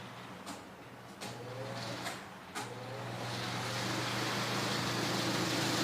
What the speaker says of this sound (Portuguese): Eu aumentei a velocidade do ventilador